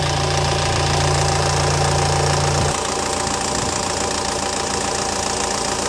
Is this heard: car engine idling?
yes